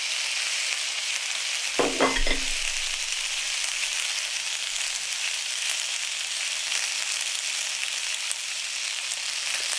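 Steak searing in a hot pan for a steak sandwich gives a steady, close sizzle throughout, with a brief sharper crackling burst near the start and no talking.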